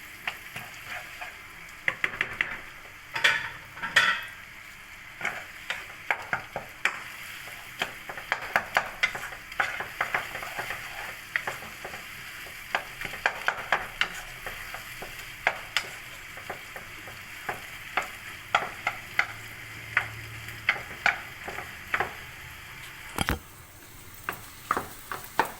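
Eggs frying in masala in a pan, a low steady sizzle punctuated by frequent sharp clinks and scrapes of a spoon stirring against the metal, close up and without talk.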